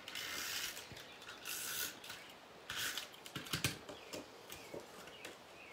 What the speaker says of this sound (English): And we'll put this on with tape runner.